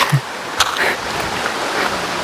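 Stream water flowing through a wooded stretch near the Cheddikulam camp in Vavuniya, heard as a steady, fairly close broadband wash with no talking.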